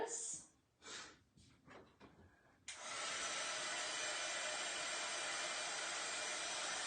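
A hair dryer switches on abruptly and runs as a loud, steady broadband blow, preceded by a few brief rustling sounds and some talk.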